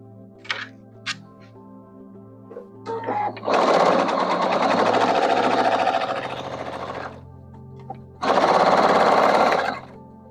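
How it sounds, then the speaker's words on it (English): Domestic sewing machine stitching half square triangle quilt pieces with background fabric, two close, loud runs of steady whirring stitching, the first about three seconds long, then a pause and a shorter second burst, with faint handling clicks before. "And now I'm going to sew this together."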